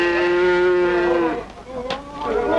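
Oxen lowing on a collective farm, with one long, loud, harmonic moo held for over a second and then tailing off, followed by fainter bovine sounds, with no talk over it.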